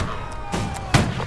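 A cannon shot in Holdfast: Nations at War, heard as a couple of short, muffled booms at moderate distance amid ongoing battlefield noise.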